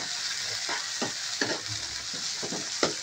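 Chopped tomatoes stirred in a frying pan for squid adobo, a spatula scraping in a loose rhythm of about eight strokes over a constant low sizzle, close and clear, with no one speaking.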